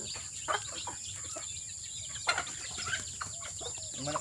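Chickens on a farm cluck in short, scattered bursts, a few louder calls standing out against a steady background hiss, fairly close, with no talking.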